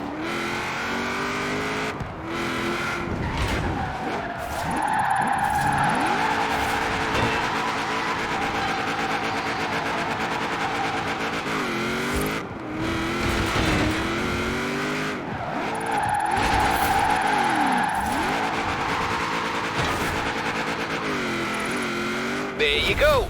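A car drifting in Forza Horizon 4, engine revving high with long tire squeals and skids through repeated slides, shifting pitch as it accelerates and brakes, loud and up front with a voice speaking over it.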